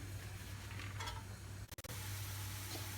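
Grated unpeeled zucchini sautéing in a pan, giving a steady low sizzle with a soft clink or stir near the middle, no voices.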